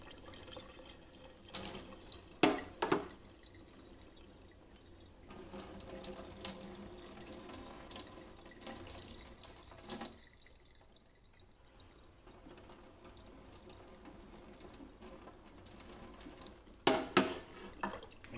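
Tap water, alternating hot and cold, runs steadily into a sink, with the stream's sound shifting and occasional splashy clatters of objects under the flow.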